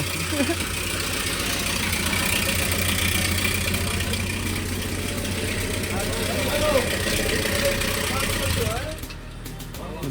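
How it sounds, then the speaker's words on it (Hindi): Maruti Dzire idling noisily with its engine system opened up for repair, a steady rough close-up drone running throughout while voices talk over it before it quiets at the end. "देख रहे हो गाड़ी की कितनी आवाज़ आ रही है"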